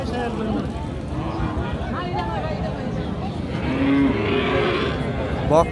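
Sahiwal cows with calves low at the Raniganj cattle market in Dinajpur. Deep moos sit under continuous talk and general market noise.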